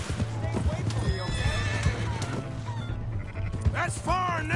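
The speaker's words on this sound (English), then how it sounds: "Hey, that's my horse!" A horse in Red Dead Redemption 2 gives a loud whinny over steady clip-clopping hooves, with shouting and game sound throughout and another whinny near the end.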